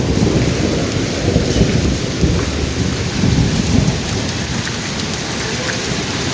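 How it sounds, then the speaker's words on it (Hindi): A heavy thunderstorm with hail pours down hard outdoors: loud, dense rain and hail drum on surfaces while thunder rumbles low underneath, continuous with no voices. "मैंने तो शायद अपनी ज़िंदगी में पहली दफ़ा देखे ये ओले पड़ते हुए, और बकायदा ये सामने वाली दीवार पे है और बादल गरज रहे हैं फुल"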